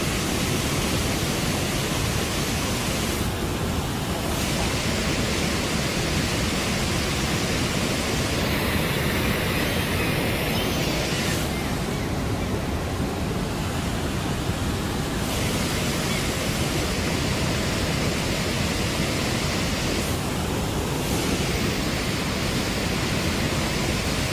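A waterfall at Brooks Falls on a live bear cam, a loud, steady broadband roar of rushing water that stays constant throughout, with slight shifts in its hiss.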